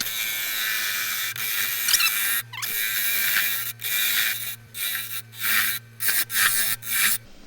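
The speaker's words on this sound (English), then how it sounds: "I'm going to do that with the tool, same tool as the 1/2" spindle gouge," A 1/2-inch spindle gouge cuts a split, wormy wooden bowl blank spinning on a lathe, a steady rasping, scraping cut under the lathe's low hum that breaks into short bursts with gaps toward the end.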